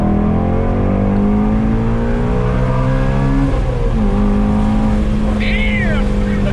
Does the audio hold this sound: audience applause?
no